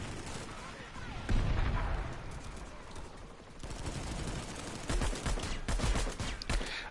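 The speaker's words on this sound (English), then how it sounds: "I love this gun because it's technically a submachine gun" Rapid submachine gun fire in a shooter video game, bursts of dense crackling shots close and loud, pausing briefly and resuming, with people talking over the action.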